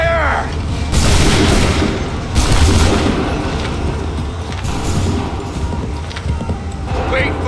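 A musket volley on command in Assassin's Creed III, with loud broadband bursts of massed gunfire rolling over a battlefield din while voices shout over the noise.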